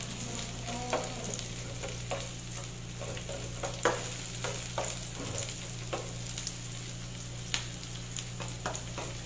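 Garlic, onion and chili fry together in a pan before ampalaya is added: a steady sizzle over a low hum, with irregular spoon taps and scrapes throughout, close and unaccompanied by speech.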